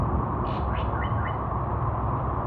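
A bird on a forest trail near Bukit Timah in Singapore gives a few short, thin calls, fairly faint over a steady background of insect and ambient hiss.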